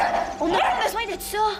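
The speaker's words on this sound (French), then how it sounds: "C'est un chien." A dog barks and yips in quick bursts, close and loud, mixed with people speaking French in a cartoon scene.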